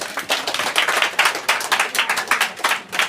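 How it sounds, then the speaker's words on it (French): Applause from an audience at a student association gathering in Manda, with dense hand clapping that keeps a fairly steady rhythm for about three seconds and has no talk over it. "Vos applaudissements"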